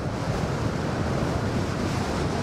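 Strong wind buffets the microphone at Fort Myers Beach, a steady, loud roar mixed with surf that runs unbroken throughout.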